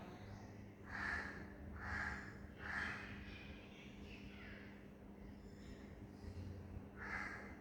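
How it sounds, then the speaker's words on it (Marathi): Slow, deep breathing during a breath-led yoga-style body awakening routine: several soft, close inhale and exhale bursts about a second apart, quiet and unhurried, with a pause before the final breath. "सावकाश श्वास घ्यायचा, सोडायचा."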